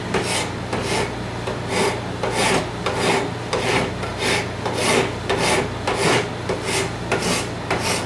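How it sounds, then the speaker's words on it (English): A hand rasp files down a piece of wood for a knife, a close, rhythmic series of about a dozen rough scraping strokes at an even pace, with no talking. "rasping down the wood like I'm doing here"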